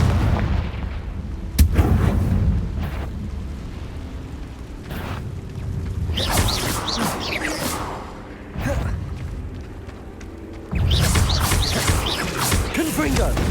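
Repeated Confringo blasting-spell explosions in a Harry Potter video game, loud booms and whooshing bursts in several waves, with a voice speaking among them.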